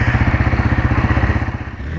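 A Yamaha XT225 Serow motorcycle runs at a steady pace, its single-cylinder engine thumping in a fast, even rhythm that stays close and loud for the whole stretch.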